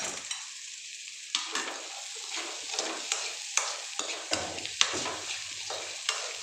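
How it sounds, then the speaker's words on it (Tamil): Green chillies and onion deep fry in extra oil, a soft continuous sizzle broken by repeated spoon scrapes and stirring clicks against the pan at a fairly even rhythm, with no voices. "இன்னும் கொஞ்சம் எண்ணெயை ஊற்றிட்டு பச்சை மிளகா போட்டு நல்லா டீப் ஃப்ரை பண்ணணும்"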